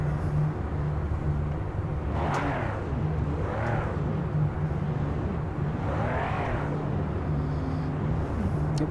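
A Porsche race car engine in the Project Motor Racing video game hums steadily at a moderate level, with a few whooshing sweeps rising and falling as it drives.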